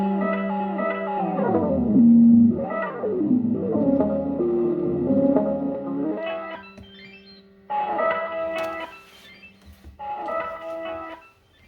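A Sixteen Second Digital Delay clone pedal from Manecolabs is pushed into feedback oscillation, giving swooping, pitch-bending tones that rise and fall, stack into bright harmonic layers, break off briefly and return in repeated bursts.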